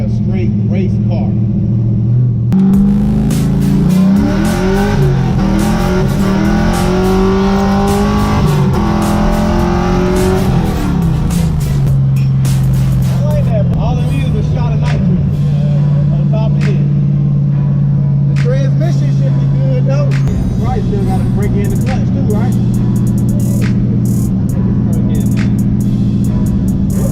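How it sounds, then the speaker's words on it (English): A loud, throaty 700 hp Toyota Supra engine revs hard and climbs in pitch, then settles into a deep, aggressive rumble close by, with a voice speaking over it. "This mug sound like a straight race car."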